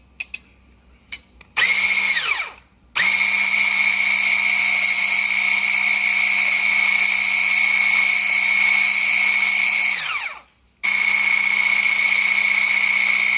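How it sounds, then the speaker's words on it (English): An ALLKEYS 500W immersion hand blender runs with its whisk attachment in two long, loud, steady whirring bursts, each winding down briefly, with a few small clicks at the start and no talk. "I'm gonna use the whisk just to try the whisk"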